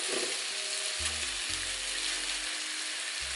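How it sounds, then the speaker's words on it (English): Rice and carrots sizzle steadily in a hot pan for chicken fried rice, a constant close frying hiss with a few low clunks from the pan and utensil, and no talking. "Let's go ahead and throw our rice in there."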